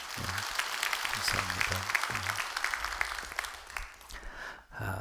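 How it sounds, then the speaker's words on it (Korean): A church congregation at dawn prayer gives a round of consoling applause, moderately close patter of clapping for a few seconds that fades out, with a brief spoken thank-you near the end. "우리 위로의 마음을 담아서 우리 한번 위로의 박수 한번 해주셔요"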